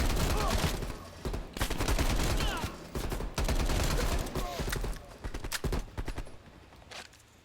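Rapid automatic gunfire in Call of Duty Black Ops Cold War, dense bursts of loud close shots broken by short pauses, with a voice speaking over the battle.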